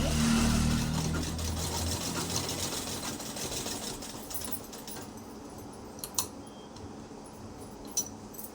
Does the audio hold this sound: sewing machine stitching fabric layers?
yes